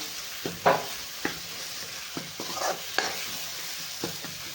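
Finely chopped tomatoes cooking down in masala in a pan for green-chili stuffed brinjal, with a low frying sizzle and a series of spaced utensil stirs and taps, close up.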